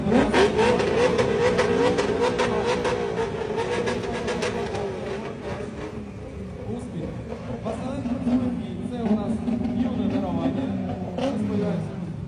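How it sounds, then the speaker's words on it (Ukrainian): A BMW E36 Compact with a three-litre engine pulls away at a driving event, its engine note rising and sustained throughout at moderate loudness, with voices talking over it. "Артем якраз виїжджає на своєму компакті"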